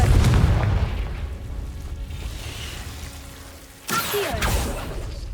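A Confringo blasting spell explodes in the Hogwarts Legacy video game: a loud, booming blast opens, then rumbles and fades before a second sharp burst cracks out near the end.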